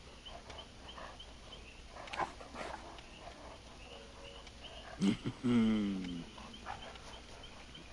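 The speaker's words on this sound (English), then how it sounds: "It's a cane Corso. great dogs." A Cane Corso dog gives a short burst of whimpering, whining yelps and a couple of barks, fairly close, with a brief spoken word before it and soft room noise throughout.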